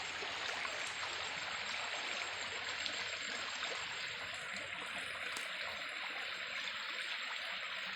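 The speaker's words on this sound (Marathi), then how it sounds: "पाण्याचा येतोय का आवाज तुम्हाला?" A flowing stream in a quiet village setting, heard as a faint, steady rush and trickle of water that runs unbroken throughout with no talking.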